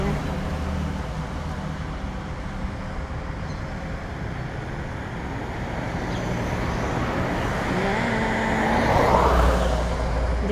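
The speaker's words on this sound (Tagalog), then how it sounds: "Ang ating daanan ay maraming sasakyan." Steady roadway traffic with many cars passing on a busy street, a continuous close rumble that swells toward the end, with faint talk underneath.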